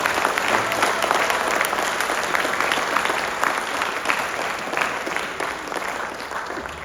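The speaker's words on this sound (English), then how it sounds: "Give a round of applause for all the other teachers that have helped us." A high school band camp audience gives dense, steady applause that fills the whole stretch at a fairly loud, even level, with no speech over it.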